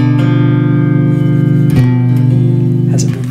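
A diminished chord rings out on guitar, its sustained notes holding steady and close, with a fresh strum around the middle that lets the chord ring on to the end.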